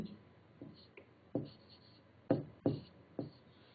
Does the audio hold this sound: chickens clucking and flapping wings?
no